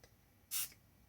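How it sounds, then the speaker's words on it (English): Water sprayed from a spray bottle onto watercolor paints, one short close hiss of mist followed by the start of a second. "some water to spray our paints to reactivate them."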